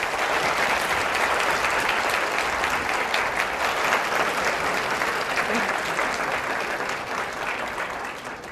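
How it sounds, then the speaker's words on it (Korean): Loud, sustained applause from a large crowd welcoming a lecturer, dense and continuous, tapering slightly toward the end. "여러분 큰 박수로 맞아주시기 바랍니다"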